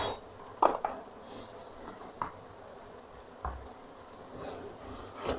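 A spoon stirs garam masala into cooked palak dal in a metal pot, giving soft scraping and a few sharp clinks against the rim, close and fairly quiet.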